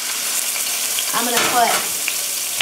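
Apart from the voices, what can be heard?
burger patty frying in sizzling oil on stove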